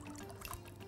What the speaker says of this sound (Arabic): نحط بقى هنا العسل الابيض ونحط عليه شويه من الميه المغليه